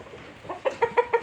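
A rooster clucks close by in a quick series of four or five short, pitched calls.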